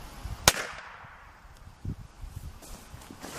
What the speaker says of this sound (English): Reloaded the shot shell and everything. About 5-6 feet away. Firing in 3, 2, 1.